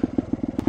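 A Vertigo Nitro 300 trials motorcycle engine runs at the very bottom of its revs, giving a slow, even train of close, punchy low thumps, about six or seven firing pulses in under a second.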